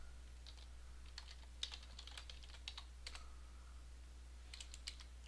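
A few faint computer keyboard keystrokes tap out in small clusters against a steady low hum, sparse and quiet, with no talking.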